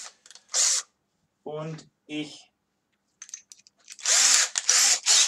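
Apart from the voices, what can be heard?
power drill boring a hole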